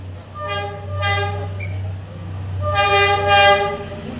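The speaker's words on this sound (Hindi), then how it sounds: "अभी ट्रेन आएगी तो तुमको दिखने को मिलेगा" Train horn sounding repeatedly in Hanoi as a train passes very close, two loud horn blasts around a constant low engine rumble, no talking.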